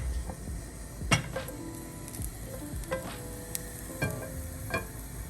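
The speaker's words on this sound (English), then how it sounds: "you just put a tiny bit in and listen for a sizzle noise" Steady sizzling of food frying in a hot pan, with occasional clinks of a utensil against the pan and stirring sounds, close and continuous.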